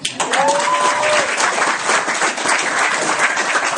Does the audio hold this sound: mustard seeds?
no